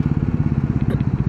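A Royal Enfield Bullet 350 motorcycle thumps along on the move with a steady, rapid single-cylinder pulse, close and prominent.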